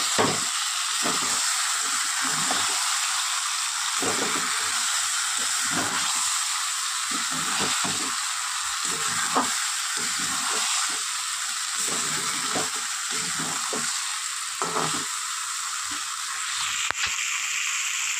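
A ground paste of raisins, char magaz, poppy seeds, white sesame, ginger and tomato fries for Kashmiri aloo dum, sizzling constantly while a spoon stirs in a rhythmic series of close scraping strokes.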